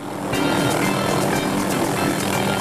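A helicopter flies on the short run out to a New Zealand hunting block, its rotor thudding in a steady, loud, close drone that holds evenly throughout with no talk.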